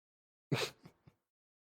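A single sharp sneeze erupts close to the microphone in a quiet room, followed by a couple of small trailing breaths.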